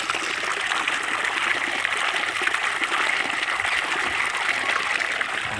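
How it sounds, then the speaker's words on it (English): Water gushes steadily from a pipe fed by a solar-powered pump in a drip irrigation setup, a continuous broadband rushing close by with no pauses. "More water. Quite a lot of water in a few seconds."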